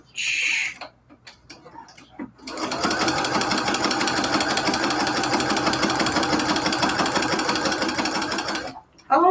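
Sewing machine back-stitching on cathedral window quilt curtains, a steady rapid mechanical chatter running for several seconds after a few brief starts, close and loud, stopping abruptly at the end.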